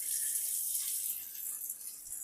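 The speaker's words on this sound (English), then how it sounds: "We're gonna go ahead and fill this up now with cold water." Cold water running from a tap into a cold therapy machine, a steady, close hissing stream of water that keeps filling the container without pause, heard alone.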